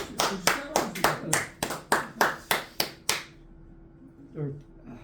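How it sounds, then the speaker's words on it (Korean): A short burst of hand clapping from a small group, about three seconds of sharp, rhythmic claps that then stop abruptly, leaving quiet room tone. "박수"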